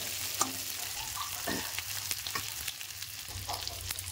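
Eggplant (brinjal) stir-fried in a pan, a steady close sizzle broken by scraping spatula strokes and clinks as the pieces are turned over.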